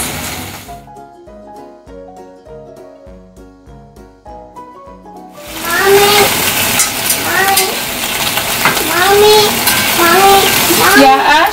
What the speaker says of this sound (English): now I'm going to add green beans to the same pot and just continue cooking them